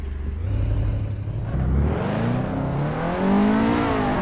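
A race car engine in Assetto Corsa revs and drives on, its pitch rising and falling through gear changes in a continuous, close, loud whine with no talk.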